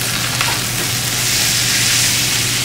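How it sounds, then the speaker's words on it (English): About eight strips of bacon and a whole bag of hash browns fry together in a pan, a loud, close, steady sizzle with scraping and stirring noises layered over it, no voices. "Now I'm going to assimilate the bacon into the hash browns."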